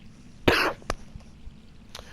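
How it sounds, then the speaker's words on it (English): A single harsh cough, followed by a couple of faint throat sounds in a quiet room. "Don't mind the cough, guys."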